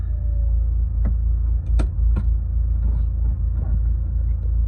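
A cheap Honda Civic with a K24 engine swap being driven, its steady engine and road rumble continuous and fairly loud throughout, with a few brief clunks or shift knocks and no talk.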